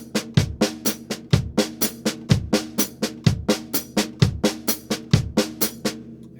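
Snare drum playing a steady run of sixteenth notes with a left-hand accent on the e of each beat. The sharp, close hits repeat in an even rhythm, and the louder accents recur regularly, with no talk.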